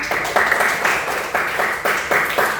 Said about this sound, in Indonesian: Mohon boleh tepuk tangan